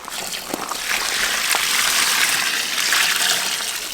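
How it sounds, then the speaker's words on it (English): Spring water is poured into a premixed mix for a fire pit, a steady close splashing gush that continues for several seconds with no talking. "you add water and stir it up."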